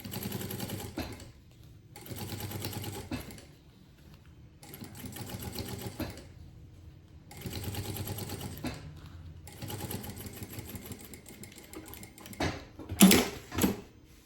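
A sewing machine runs in four or five steady bursts with short silent gaps as it stitches a lining to the main fabric of a mini suitcase, close and clear, ending with a few sharp mechanical clicks.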